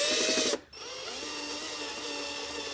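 A power tool drives screws into a hoverboard during a battery replacement, a continuous whining drill motor that stops briefly, then resumes with a steady, slightly lower hum.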